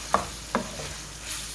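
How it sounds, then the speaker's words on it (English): Minced beef for fried rice, fried in large lumps in a pan, is stirred in two distinct scraping strokes over a low background sizzle, with a softer clink near the end. "So I'm just going to stir this"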